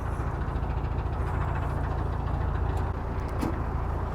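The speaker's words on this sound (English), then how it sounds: "There's a lot of road noise here." Road traffic drones steadily nearby beside the Northampton Arm canal, a low continuous rumble of passing engines with no talking, unbroken from start to finish.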